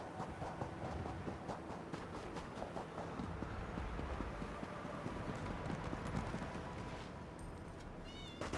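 Horse hooves clip-clopping in Elder Scrolls Online, Alik'r Desert, a steady patter under a busy, noisy ambience, with a short high whine near the end.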